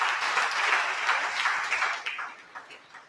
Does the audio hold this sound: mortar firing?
no